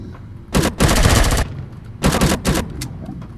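Gunfire in the Empyrion survival game, loud close bursts of rapid automatic fire, two long volleys with short pauses and a few trailing single shots.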